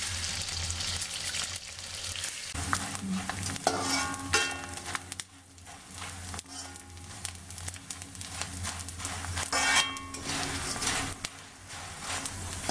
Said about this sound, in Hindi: इस तरह से हमें पूरे गोंद को तल लिया है